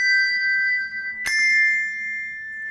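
Handbells from a handbell quartet ring out as two bells sounding together, sustaining clear tones. A fresh bright strike comes midway, and the bells then ring on and fade slowly, with no voices.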